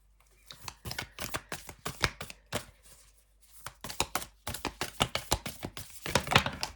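Oracle cards being shuffled by hand, a rapid series of crisp, sharp card slaps and riffles in uneven bursts, close and clear with no talking.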